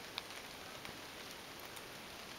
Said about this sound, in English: Beautiful, this light rain falling.